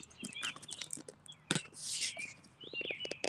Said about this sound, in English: You hear the same birds in your area.